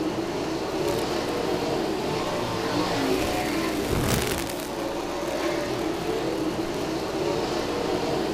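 Dirt-track crate late-model race cars roar down the backstretch as they battle for position, a steady dense engine drone with a brief louder surge as cars pass close by.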